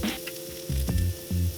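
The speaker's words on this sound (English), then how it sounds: "it says to brown the panko crumbs using some melted butter" Panko crumbs browning in melted butter with garlic and the whites of scallions, a soft close sizzle swelling in a few short bursts as the pan is stirred, with a steady kitchen hum underneath.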